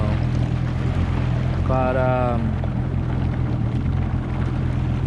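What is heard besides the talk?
supercharged 2009 Yamaha FZR waverunner running with pump cavitation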